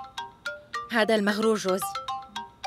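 A phone rings in a repeating electronic pattern of short tones, close and clear, while someone speaks over the middle of it.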